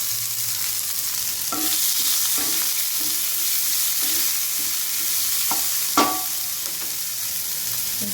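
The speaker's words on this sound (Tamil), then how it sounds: "ஒரு ரெண்டு பச்சை மிளகாய் கூடவே ஒரே ஒரு வெங்காயம் இது எல்லாத்தையும் நல்லா ரோஸ்ட் பண்ணிடுவோம்" Green chillies and onion fry in a pan with a steady hiss of sizzling oil, punctuated by several sharp clinks and scrapes of a spoon stirring against the metal, no voices.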